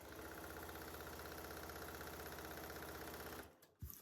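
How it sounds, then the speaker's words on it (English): Sewing machine stitching the middle seam of a quilt block, a fast steady mechanical chatter running for over three seconds, then stopping with a few soft clicks and a thump, close but quiet. "So I'm sewing the middle part first because it's the only one that has to be, that the seam has to be pressed inward."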